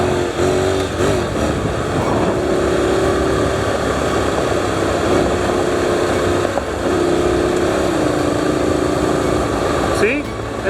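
Honda street motorcycle with a DCT gearbox upshifting on the move, a steady loud engine drone whose pitch holds, drops and resettles at each gear change, with wind rush throughout and no talk.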